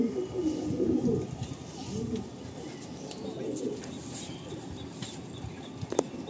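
Pigeons in a loft, a low, soft cooing that murmurs steadily in the near background, with a sharp click near the end.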